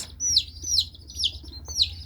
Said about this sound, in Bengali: এগুলো হচ্ছে ককের বাচ্চা রং করা হয়েছে